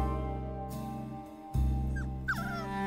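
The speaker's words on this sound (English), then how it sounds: "a puppy cafe" Puppies at a puppy cafe in Tokyo let out a few short whimpers and high yips, close by, over a steady background hum.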